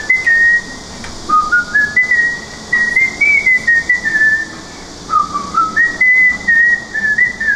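A person whistles a melodic tune in a radio studio, clear and close, in short phrases with brief pauses between them, no talking.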